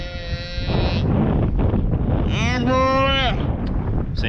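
A cow on a farm at the start of calving season, with a dog nearby, gives a drawn-out moo over steady outdoor noise, following a higher tonal call at the beginning.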